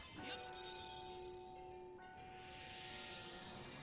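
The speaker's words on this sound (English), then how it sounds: "I love that effect when they ring the bell." A bell rings in Dragon Quest Builders 2, a bright strike followed by a steady, sustained metallic tone that hangs at moderate volume over soft background game ambience.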